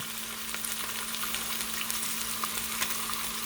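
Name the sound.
beef searing in a cast iron Dutch oven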